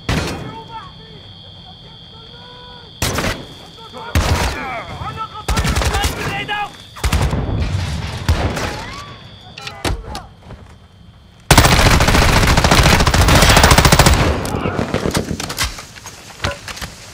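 Assault rifle fire in Call of Duty Modern Warfare 2, loud rapid bursts cracking in several separate volleys, then one long sustained stretch of automatic fire near the end.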